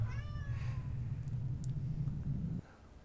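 A cat meows once, drawn out and close, in the post-apocalyptic golf video game Golf Club Wasteland, over a steady low rumbling game soundtrack that cuts off near the end.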